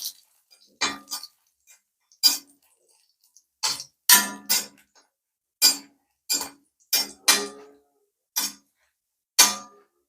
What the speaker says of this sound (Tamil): இப்போ நம்ம மிளகா வத்தல் போடுறோம். சிம்மில் தாங்க வச்சு வறுக்கிறோம் நம்ம